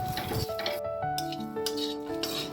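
Grated coconut and chopped raisins frying in a pan are stirred with a utensil, giving repeated scrapes and metallic clinks against the pan, fairly quiet and continuous without any talk.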